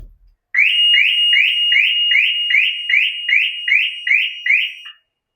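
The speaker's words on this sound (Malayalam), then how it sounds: "കണ്ടോ, ഇങ്ങനെയാണ് അലാറം അടിക്കുക." Security alarm on a parked Maruti car, a loud electronic chirp repeated about a dozen times in a quick steady rhythm, close by and with no talking.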